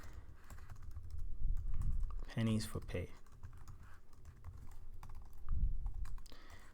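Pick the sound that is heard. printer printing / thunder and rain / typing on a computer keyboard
typing on a computer keyboard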